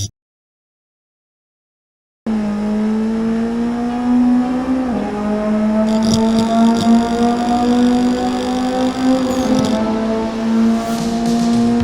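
A drift car in the racing sim Assetto Corsa holds a loud, sustained engine drone after a short silent start, with bursts of tire squeal layered over it midway through.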